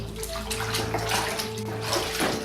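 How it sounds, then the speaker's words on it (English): Paint roller sloshing as it drops into a tub of rinse water during cleanup, a steady broadband wash of running, splashing water with a faint low hum underneath and no talking. "And I'll just drop it off in the water."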